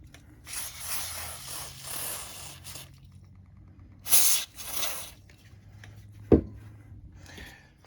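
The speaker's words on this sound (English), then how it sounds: "Using the contact cleaner, we're going to go ahead and spray down these contact areas" Several short bursts of aerosol contact cleaner spray hiss up close, separated by pauses, with a sharp clack partway through.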